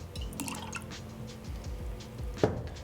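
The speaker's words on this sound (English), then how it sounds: "I'm going to add 1 ounce of oat milk." Oat milk is poured into a mug of mint coffee, giving a soft, close trickle and drip of liquid over a low background, ending in a brief sharper splash.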